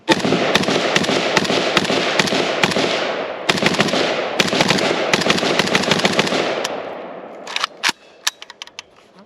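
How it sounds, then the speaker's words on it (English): KUSA KP-104 AK-pattern rifle fired at an outdoor range with a steel surplus magazine, loud rapid strings of close sharp shots in several bursts, then a few scattered single reports and clinks as the firing ends. "second go with the KP-104, now with the steel surplus mag."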